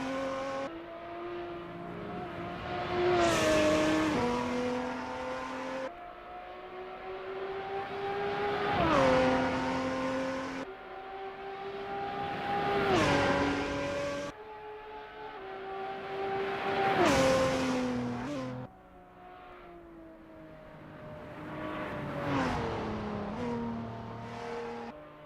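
A Lotus 3 Eleven race car engine in Assetto Corsa at Road One International revs hard through repeated gear changes, rising pitch then dropping at each shift, loud and close with no voices.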